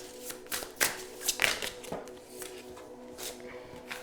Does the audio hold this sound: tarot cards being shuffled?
yes